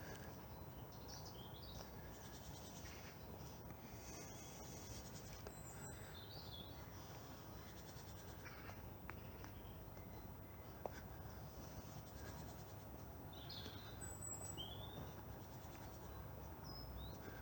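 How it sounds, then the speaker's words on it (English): Woodland bird song with tits, a blackbird and sparrows on a late-winter walk in Plymouth's Central Park, faint scattered chirps and short calls at a distance over a soft, steady background hush. "I'm hoping you can hear the very distinctive bird song. The many species of birds that are here. A large number of the tit family, your blackbird, you've got sparrows."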